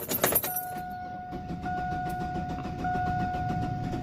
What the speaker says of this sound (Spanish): Le voy a dar marcha, lo voy a prender y vamos a ver que si luego levanta la presión ahí.